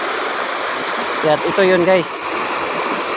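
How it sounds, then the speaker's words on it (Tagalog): Water flows steadily where two streams meet, a constant rushing wash in the background while a person talks briefly over it. "kasi dito nagkasalubong ang tubig"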